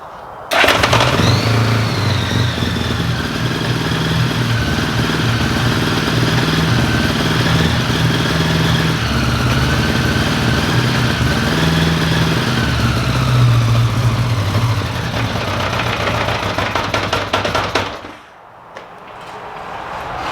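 A Honda Goldwing motorcycle engine with unsynced carburetors runs loud and close for most of the clip, its uneven idle wavering and surging before it cuts out near the end.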